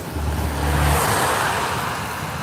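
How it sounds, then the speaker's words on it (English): A car passes on a road during a morning bike ride, a broad whoosh that swells close by within a second and then fades, with steady wind and road noise. "Just have to be a little mindful of cars on the straightaway."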